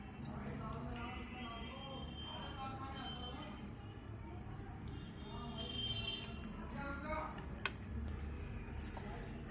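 Spoon clinking and scraping in a cup while stirring a milk and buttermilk batter for khandvi, steady light clatter running under ongoing talk throughout.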